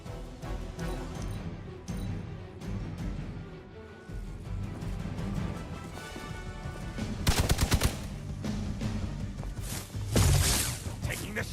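Marvel's Midnight Suns gunfire: sharp shots scattered through the scene, then a fast, loud rattling burst midway and another heavy hit near the end, amid game music and effects, with occasional voices.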